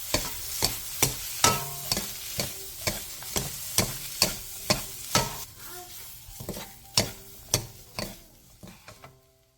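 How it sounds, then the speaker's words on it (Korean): Seasoned vegetable side dish being lightly tossed with perilla oil and whole sesame seeds, with a series of soft, evenly spaced clacks and scrapes of utensils against a bowl, close and fairly quiet, with no talking. "마지막으로 들기름 1스푼과 통깨를 넣고 가볍게 뒤적여 마무리해주세요."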